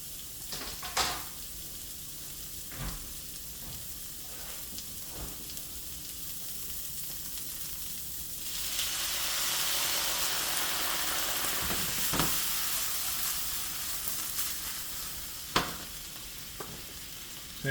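Zucchini frying in olive oil in a pan gives a steady close sizzle that swells louder midway, punctuated by a few clicks and knocks of stirring utensils, with no talking.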